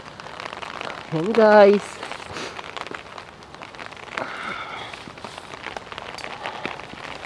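Steady rain patters around someone walking among cherry blossoms, a continuous wash of drops with a brief louder burst early on and a short spoken remark.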